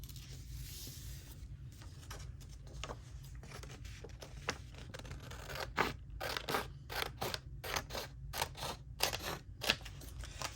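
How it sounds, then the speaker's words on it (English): Scissors trimming paper library pockets made from junk-journal paper, a run of close, crisp snips and slicing cuts that grow quicker and denser in the second half, with faint handling rustle. "I'm using my scissor."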